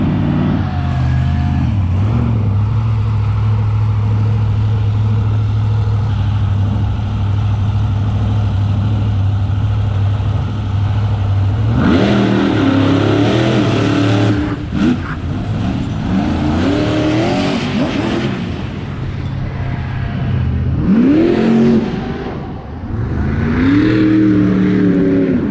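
Monster trucks race at the Monster Truck Throwdown in London, Ontario, with a loud, steady engine drone that swells into hard revving bursts as the big trucks accelerate and roar past, with no one talking.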